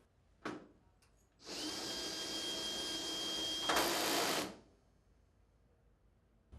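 A power drill drives the shaft of a Liftpod platform lift, with a brief click, then a steady high whirring motor run of about three seconds that grows slightly louder before stopping, close and clear with no talking.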